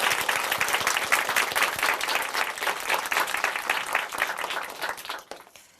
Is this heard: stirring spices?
no